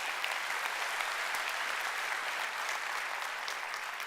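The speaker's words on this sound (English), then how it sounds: "Clap, give her a round of applause." A crowd at a customer-experience talk gives a round of applause for a breakfast hostess, a steady, even wash of many hands clapping, fairly faint and distant, with no talking over it.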